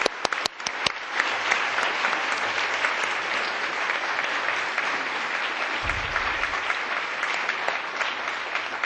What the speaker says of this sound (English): We'd like to give them a big applause.